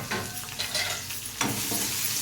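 Onion sizzling and frying in hot oil in a pan with potatoes, with bursts of stirring scraping across a steady crackle; no talk.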